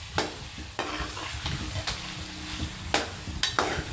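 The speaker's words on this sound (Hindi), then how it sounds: "इसमें चम्मच हिलाएं" A spoon stirs spicy chicken qeema with chillies in a frying pan, giving a steady low sizzle with repeated scraping strokes and several sharper clinks against the pan, close and alone.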